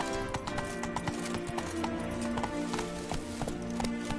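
Geralt's horse Roach galloping in The Witcher 3: Blood and Wine, a steady, rapid clip-clop of hooves running continuously over a constant game background bed.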